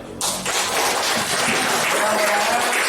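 Applause from an audience at a school teachers' event in Tasikmalaya, a dense burst of clapping that starts suddenly and carries on steadily, fairly loud and close, with faint voices underneath.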